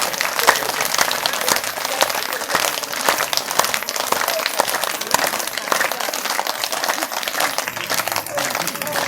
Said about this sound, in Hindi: और तेजी से ताली को बजाइए।